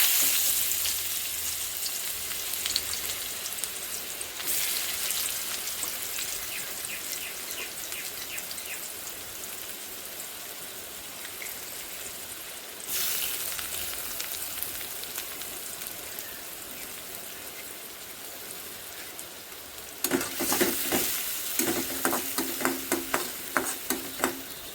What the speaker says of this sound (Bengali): পেঁয়াজটাকে আমি একটু নরম হওয়া অবধি ভাজবো।